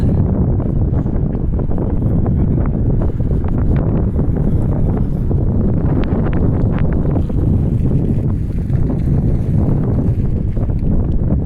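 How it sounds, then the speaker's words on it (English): Strong, steady wind roars continuously across the microphone outdoors along a road in Dartmouth, Nova Scotia, a broad buffeting rush with occasional gusty flutters and no one speaking. "we got a little more wind up here than we had before"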